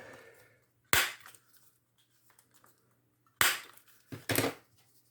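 Paper being trimmed and its edges rounded on a booklet, heard as three sharp isolated snips or punches, the last a quick double, with quiet gaps between.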